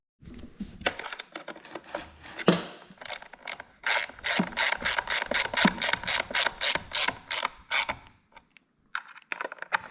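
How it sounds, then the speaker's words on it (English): A Pittsburgh 1/4 inch ratchet tightens bolts on a melted Stihl MS251C chainsaw clutch, with rapid, close clicking pawl strokes in bursts, a few handling knocks at the start, then a brief pause. "I've been trying out this Pittsburgh 1/4 inch ratchet."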